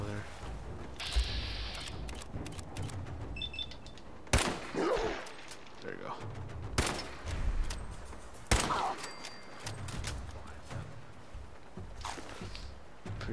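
Fallout 4 gunfire in a warzone setting, with sharp shots at irregular intervals mixed with mechanical clicks and rattles, the scene busy and fairly close.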